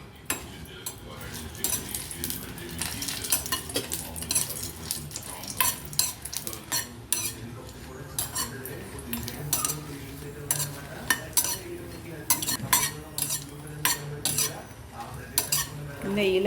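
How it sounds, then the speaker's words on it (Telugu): Dried red chillies fry in a spoonful of ghee in a pan, with a steady sizzle and repeated scraping and clinking of a spoon as they are stirred continuously. "ఎండుమిర్చి అయితే జస్ట్ అలా ఒక స్పూన్ నెయ్యిలో అయితే వేయిస్తున్నానండి."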